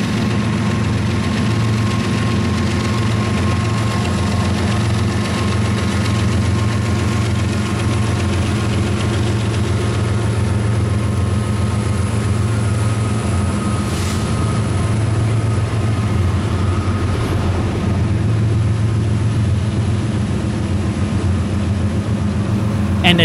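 Freight train 11A with locomotive 7688 passes close by, a loud continuous low diesel rumble and rail roar that holds steady for over twenty seconds, with a brief higher whine midway.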